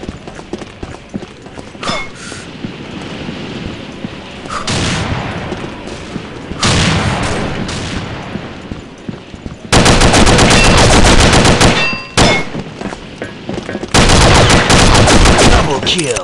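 Bursts of UMP submachine gun fire in the shooter game Combat Arms, loud and close, rattling in rapid sustained strings with short pauses between, the heaviest volleys coming in the later half.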